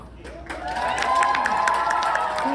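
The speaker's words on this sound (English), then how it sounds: "So the audience just cheer for who you thought did the worst." Audience at a comedy hypnosis show during a high school prom cheering and applauding, a sustained roar of claps and shouts building and holding steady, with excited voices rising above it.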